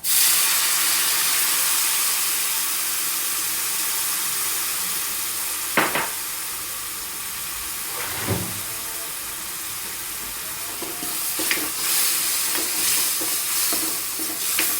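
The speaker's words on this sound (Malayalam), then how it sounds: "എടുത്തു വെച്ചേക്കുന്ന പുളി വെള്ളം ഒഴിച്ചു കൊടുക്കുക" Tamarind water is poured into a hot pan, setting off a burst of hissing and bubbling, with stirring scrapes and occasional clanks over a constant sizzle.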